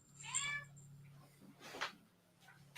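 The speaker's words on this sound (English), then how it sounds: "My cat has joined the discussion." A house cat meows twice indoors, a short bright call then a second one a moment later, fairly close and alone over a low steady hum.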